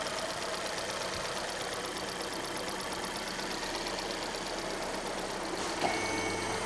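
A Hyundai G4NA car engine with knocking runs steadily at idle, giving a continuous mechanical drone with a faint rapid ticking. It is heard close up under the hood with no talking.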